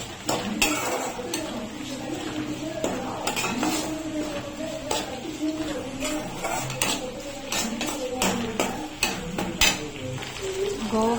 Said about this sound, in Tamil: அரைச்சி வச்சிருக்கிற கருவேப்பிலை பொடி எடுத்து அதில் போட்டுட்டு எடுத்து போட்டுட்டு கொஞ்சம் நம்ம நல்லா ஃப்ரை பண்ணணும்.